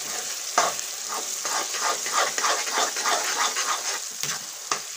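Loud, continuous sizzling of a hot oil tempering rises from a pan of tomato pickle, with rhythmic stirring scrapes close up throughout.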